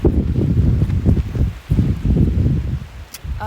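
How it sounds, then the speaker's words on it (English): Strong wind gusts buffet the microphone beside a lake at Cedar Hill State Park in January, a loud, low rumbling roar that swells and dips, with water churning underneath. "It's very windy, but it's cool because it's making the water really loud"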